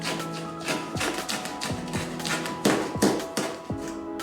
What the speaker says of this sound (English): So we're sawing through that piece of tape we set up.